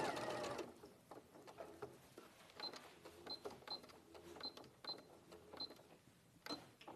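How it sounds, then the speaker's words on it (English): A sewing machine stitches across a fabric flap in bursts, with several short clicking stops between runs and a louder rattle at the start, fairly close. "so I've sewn across the flap."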